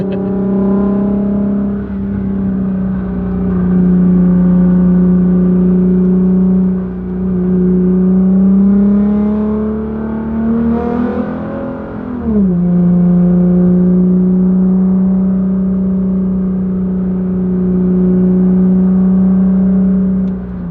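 Engine of a completed Subaru STi hatchback drones loudly while driving, a sustained harmonic hum that rises and falls with gear and throttle changes, with one clear rev climb and drop near the middle.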